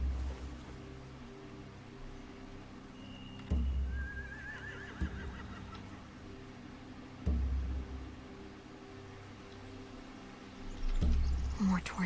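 Horses in The Walking Dead video game give a couple of faint whinnies over a quiet ambient bed, with occasional muffled thumps and no talk.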